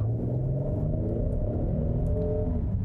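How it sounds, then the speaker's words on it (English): A 2020 Kia Telluride SUV in sport mode, traction control off, accelerating hard from a stop: a steady, close, low engine rumble and drone that holds for a few seconds, with no talking. "I'm gonna floor it with the traction control off"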